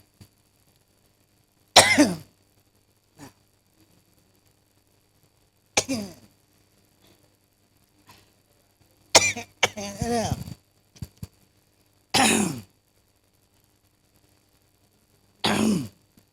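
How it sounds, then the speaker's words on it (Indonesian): A handful of sharp, separate coughs ring out in a church worship service, spaced irregularly a few seconds apart, fairly close and clear against near silence, with no speech between them. "Lagi mesti batuk ya."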